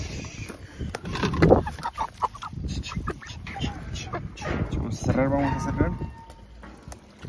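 Farm chickens cluck and squawk in short, irregular bursts close by, mixed with a person talking over them.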